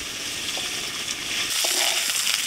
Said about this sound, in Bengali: তেলের মধ্যে একটু কষিয়ে নিচ্ছি